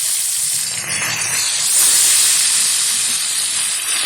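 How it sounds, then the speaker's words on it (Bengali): Catla fish pieces rubbed with salt and turmeric fry in hot oil, giving a loud, steady close-up hiss and sizzle throughout. "এখন তেলের মধ্যে ছেড়ে সুন্দরভাবে ভেজে নেব"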